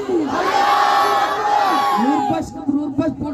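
A protest crowd at a sit-in shouts a loud, sustained collective chant in answer to a leader's call of Naara-e-Takbeer, voices swelling together and then breaking into scattered shouts.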